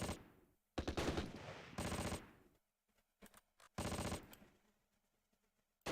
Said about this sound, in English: you just have to get really close with the actual Piat to fire it